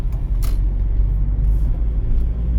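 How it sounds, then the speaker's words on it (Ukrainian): A car drives along a city street in Cherkasy on an exam route, its engine a steady low rumble heard from inside the cabin, with a brief higher clatter early on and no talking. "Я перемикаюсь на другу передачу."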